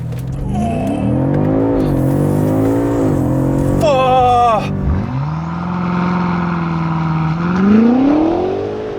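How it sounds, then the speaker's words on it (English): 2022 BMW M5 CS with its 4.4-liter twin-turbo V8, launched hard and accelerating, loud and close, climbing through several rising gear pulls with quick shift breaks, under in-car talk. "'22 BMW M5 CS with launch control."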